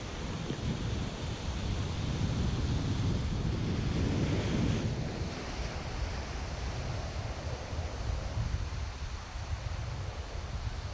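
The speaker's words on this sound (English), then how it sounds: "I got the waves coming in and crashing against me" Ocean surf at New Smyrna Beach, Florida, waves rolling in and breaking against someone wading during shark fishing, a loud continuous wash with heavy wind buffeting the microphone and no voices.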